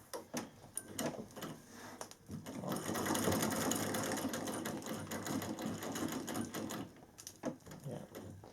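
A Singer 15K treadle sewing machine in its cabinet runs steadily for several seconds, a loud, busy mechanical clatter between softer clicks and knocks at the start and end.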